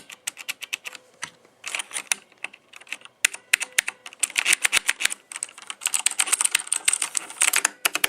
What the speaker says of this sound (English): The Cherry MX Blue switch type is great for both gaming and typing. It gives a solid tactile feel with a awesome sounding click.